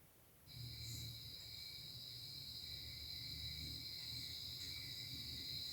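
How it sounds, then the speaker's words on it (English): Crickets trill in a steady, unbroken drone, faint and distant, in an otherwise quiet night setting. "You can hear in the background the crickets."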